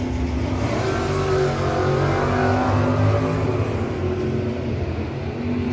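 Two drag race cars, an S15 and a Camaro, roar loudly with layered revving engine tones that hold and shift over several seconds, close and unbroken, with no speech.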